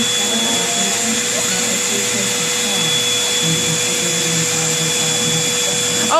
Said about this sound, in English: will you vacuum the rug?